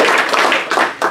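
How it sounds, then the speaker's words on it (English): Brief burst of audience applause after a speaker is introduced at a healthcare event, loud and close, a short spread of claps with a couple of accented hits, no talking over it. "Give him a round of applause"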